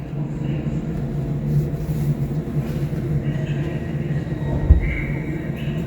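A train at Rock Ferry station rumbles steadily with a low, continuous drone, a brief clunk near the end, heard close by with faint background noise.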